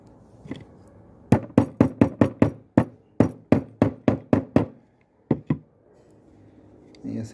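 Sharp knocks from punching holes into a metal beer bottle cap while making a homemade lipless vibrating fishing lure, about a dozen loud, evenly spaced strikes in two bursts with a pair more near the end.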